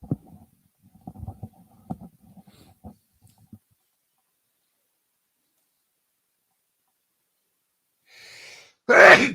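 A sharp, loud sneeze lands near the end after low murmured talk on a sports radio broadcast, preceded by a soft breathy intake and set against a silent background.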